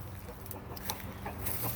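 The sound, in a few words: rooster calling the other chickens to food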